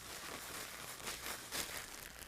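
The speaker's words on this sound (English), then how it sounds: "Seal the bag and shake it until it's evenly coated." A sealed plastic bag holding breadcrumbs and chicken pieces is shaken, making soft continuous crinkling and rustling with rhythmic swishes, close and fairly quiet, with no speech.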